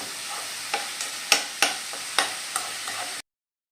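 A spoon stirs frying bitter gourd in a pan, knocking against the metal in about eight sharp, evenly spaced strokes over a steady sizzle.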